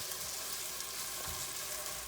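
Onions and garlic fry in a pan over a flame for tomato basil soup, giving a steady, close, hissing sizzle with no talk.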